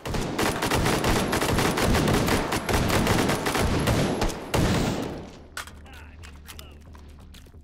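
Dense rapid gunfire from several weapons in the VR shooter Hot Dogs, Horseshoes & Hand Grenades, loud and continuous for about five seconds before cutting off into a quieter, low rumble.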